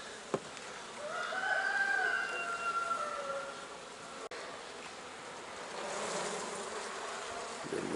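A dense, steady drone of many honeybees buzzing in a small hive, close and continuous, with a couple of sharp clicks and a faint rooster crow in the background.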